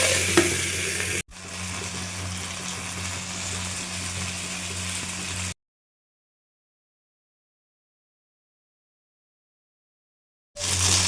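Mixed vegetables being sautéed in a pan: a close sizzle with stirring scrapes and a low hum, cut by a brief gap near the start and a long stretch of silence, then the sizzle returns.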